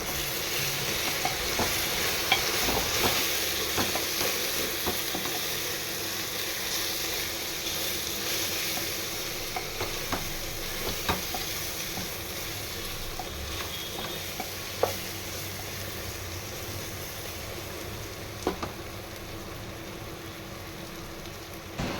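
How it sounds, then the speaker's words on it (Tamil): Steady sizzling of spices frying in a pan, with occasional scrapes and clinks of a utensil stirring, fairly close and without talking. "இப்போ இது எல்லாத்தையுமே சேர்த்து நல்லா வந்து கலந்து விட்டுக்கலாம்"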